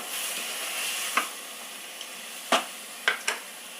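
Medium-sized potato pieces, six potatoes' worth, go into a hot pan for potato curry and set off a steady hiss. A few sharp clinks and spatters stand out over the sizzle, with no talking.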